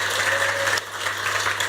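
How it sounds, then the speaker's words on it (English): Audience applause at a conference talk on CSS Houdini, a steady wash of clapping throughout with a steady low hum beneath, dipping briefly midway before picking back up. "I love getting applause for no reason, so just keep it going."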